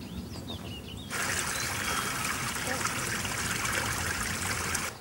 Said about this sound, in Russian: Включите воду.